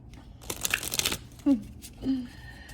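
Tarot cards are shuffled by hand in a quick burst of papery riffling and rustling, followed by brief murmured vocal sounds.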